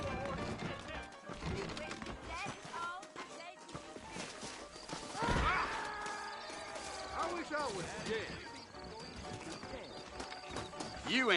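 Horse hooves clop steadily in Red Dead Redemption, with a horse whinnying partway through; a person speaks over the sounds.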